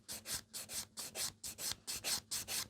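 Quick scratching strokes across a cured gel nail to smooth off sticking-out bits, about ten short rhythmic rasping rubs in fast succession, close and quiet.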